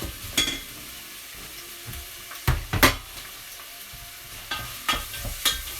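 Chopped onions fry in a saucepan for an Indian dahl, a steady close sizzle broken by several sharp scraping stirs and clattering spoon strokes, with no voices.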